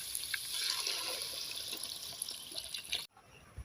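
Water pours steadily into a pot of beans and curry leaves for wheat rava kichadi, a soft, hissing splash for about three seconds, then stops abruptly; quiet kitchen ambience remains.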